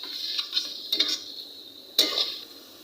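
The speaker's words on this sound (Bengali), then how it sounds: "মাংসগুলো এই তেলের মধ্যে আমি হালকা করে ভেজে নেব।" Beef pieces fry lightly in oil for halim while a spoon stirs and scrapes the pot, giving a few distinct clinks and scrapes over a quiet sizzle.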